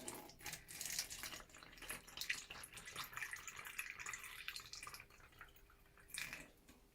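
Screen wash poured through a funnel into a bottle for homemade airbrush cleaner, a steady trickling, dripping liquid stream lasting several seconds with a brief louder splash near the end, close and fairly quiet.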